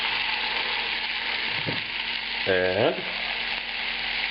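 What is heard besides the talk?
onion and tomato frying in a pan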